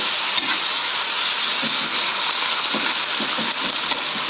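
Mushrooms, meat and mustard greens stir-fry in a hot pan with a loud, close, continuous sizzle and hiss, with light scraping stirs now and then and no talking.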